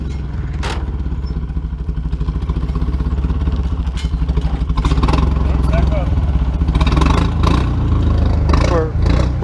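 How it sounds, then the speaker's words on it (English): A vehicle doing burnouts with its engine revving hard, loud and continuous with rising revs and clattering bursts, with voices talking over it. "Doing burnouts."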